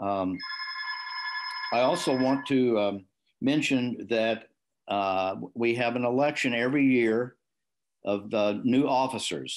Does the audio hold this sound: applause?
no